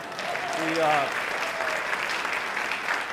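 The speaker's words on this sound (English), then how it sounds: "give yourselves a round of applause" A town hall crowd in Silverthorne, Colorado applauds steadily, with a brief voice heard over the clapping near the start.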